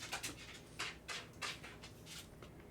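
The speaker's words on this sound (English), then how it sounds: "The dog is playing with his food if you can't hear him." A dog plays with its food nearby, giving a series of soft, irregular scuffs, rustles and panting bursts, faint and close, with no talk.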